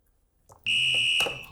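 A quiz show buzzer sounds during a football trivia contest, a sharp electronic tone that starts abruptly after a short quiet and holds loud and steady, with a brief clatter partway through.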